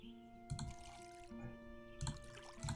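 Watering plants in the Witchy Life Story video game, soft bursts of splashing water repeating several times over a quiet steady musical tone.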